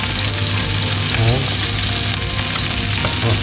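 Prawns frying in a pan, a dense, loud, continuous sizzle with faint stirring scrapes throughout.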